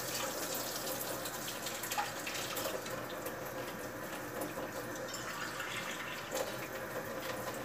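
Warm water running steadily from a tap into a container for a shake, a continuous splashing rush with small drips, moderately loud and alone throughout.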